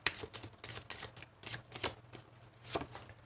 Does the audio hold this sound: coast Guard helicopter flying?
no